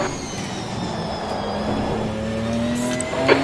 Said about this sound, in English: Okay, Mick, there's a faster car approaching.